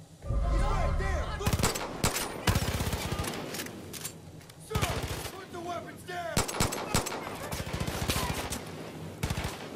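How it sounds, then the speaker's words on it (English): Gunfire erupts in Far Cry 5 as clustered volleys of sharp shots, separated by short pauses, over an outdoor game soundscape, with a voice speaking between the bursts. "Who's shooting?"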